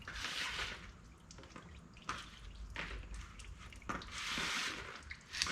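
Fluid dripping from an engine part after the filter has been removed, quiet intermittent drips and splashes with soft handling noises, close and fairly faint, no talking.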